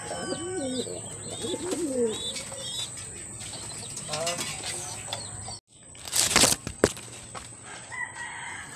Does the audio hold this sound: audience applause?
no